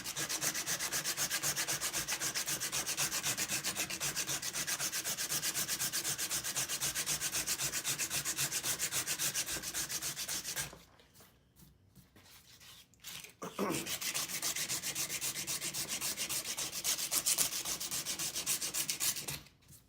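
An 80-grit belt sander shapes a knife handle, putting a small radius on both sides with a steady, close, abrasive rasping whir, broken by a short pause near the middle before the grinding resumes.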